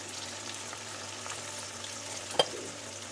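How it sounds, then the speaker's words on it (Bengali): Carrots and green peas frying together in ghee and oil in a pan, a faint, steady sizzle with one sharp clink of a utensil partway through and no talk. "গাজরটা আর কড়াইশুঁটিটা আমি একসঙ্গে ভেজে নেবো।"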